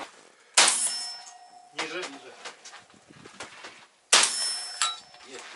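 Two sharp metallic clangs of shotgun slugs from an MR-155 hitting a steel gong at 100 metres ring out a few seconds apart, each leaving a bright, sustained ringing tone, with faint talk between them.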